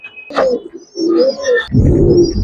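Giribaz pigeons, colouring and silver birds, give soft, close cooing calls in two or three short bursts, with no voices present.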